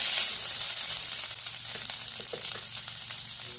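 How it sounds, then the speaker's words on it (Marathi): Boiled potatoes sizzle and fry in a pan with roasted peanuts, a steady close hiss with a few soft stirring scrapes and no talking. "आता आपण त्यामध्ये बटाटे, उकडलेला बटाटा घालूया। बटाटा पण छान परतून घेऊया आपण।"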